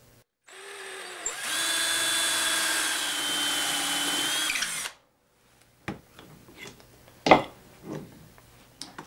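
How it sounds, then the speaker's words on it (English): A power drill bores holes into a wooden corbel through a clamped jig, running in one steady, loud whine for about four seconds. The whine stops, followed by a few scattered knocks and handling sounds. "And I can clamp this onto the top side of the corbel and drill the holes."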